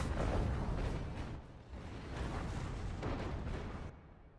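Pelters from Stonberg shoot in a medieval strategy video game battle, heard as a dense, continuous rumble of booming impacts with no clear single shots. The din stays loud throughout and briefly dips midway.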